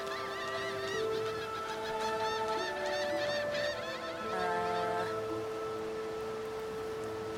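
Seagulls on a shore in the video game Divinity: Original Sin II call loudly with repeated squawks and honks over steady music and ambient background.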